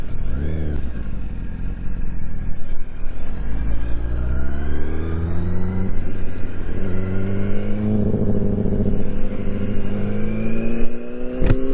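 A motorcycle engine revs hard in first gear for a power wheelie, pitch climbing and falling through several loud, close pulls that sustain throughout.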